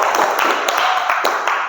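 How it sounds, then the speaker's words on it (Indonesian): A classroom group clapping together, a dense, steady patter of many hands that carries on evenly through the short stretch. "Tepuk tangan buat kita semua"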